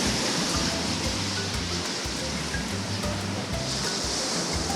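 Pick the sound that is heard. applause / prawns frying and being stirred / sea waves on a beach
sea waves on a beach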